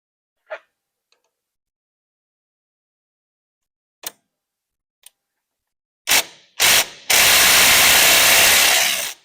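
A few sharp clicks and taps in near silence, then short bursts of a power drill, used while replacing the thermostat on a John Deere 750 tractor, before it runs loudly and steadily for several seconds.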